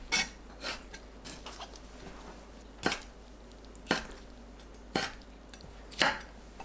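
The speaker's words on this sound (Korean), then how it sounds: "오징어 다리 끝부분은 1cm 정도 잘라내고 길게 썰어주세요" A knife slicing squid legs into long strips on a cutting board, tips trimmed off first, gives several sharp, separate chops at an uneven, unhurried rhythm, close and clear over a quiet background.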